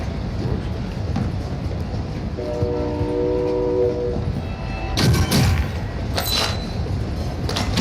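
A train rolls along in a first-person shooter video game, with a continuous rumble, a brief horn-like tone in the middle and sharp crashing bursts near the end, under faint game noise.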